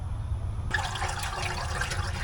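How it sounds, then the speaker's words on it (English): Hot water gushes from a tap onto a 1970 Suzuki TC-120 Trail Cat motorcycle part, starting abruptly after a low hum and splashing steadily and loudly to the end. "I'm going to rinse it out in hot water a couple more times."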